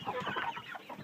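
Large meat chickens close to butchering size cluck continuously inside a coop. Several birds' overlapping clucks and murmurs form a soft, busy chatter.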